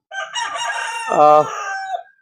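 A single full crow from a red Kelso gamecock rings out close and loud, rising to a strained peak before trailing off.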